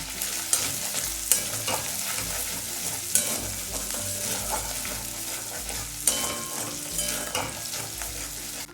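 Spice paste fries in oil with a pinch of asafoetida for a jackfruit curry, a dense continuous sizzle with occasional sharp clicks of a spoon stirring, close and steady with no voices.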